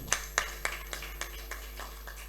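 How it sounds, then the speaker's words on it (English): At a directors' institute fellows investiture ceremony in Nigeria, a small audience gives a short burst of applause. Crisp claps start strong and thin out into faint, scattered taps. "a round of applause for him"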